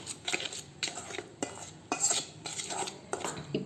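Mirchi bajji batter with turmeric is stirred in a bowl with a metal spoon, giving regular scraping and clinking strokes about every half second, close and fairly quiet.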